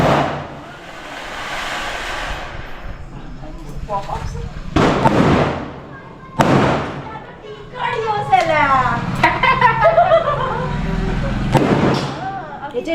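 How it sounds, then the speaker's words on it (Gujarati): Firecrackers go off during Dev Diwali festivities at a house, with three sharp, loud bangs spaced unevenly across the moment while people talk nearby. "આ બે ફટાકડા ફોડે છે"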